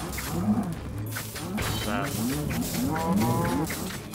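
Cows in Minecraft Dungeons moo repeatedly in short, rhythmic calls over a steady background rumble, fairly close and overlapping.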